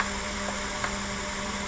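Steady hissing static from the I-Doser Gates of Hades binaural audio track, a broadband noise wash with a faint tonal hum, constant and moderately quiet with no voices.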